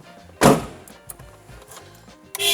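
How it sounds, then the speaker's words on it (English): The door of a 1995 Mitsubishi 3000GT VR-4 Spyder closes with a single close, solid thunk, followed by faint handling noises and a second softer knock at the end. "so I'll close the door really quick."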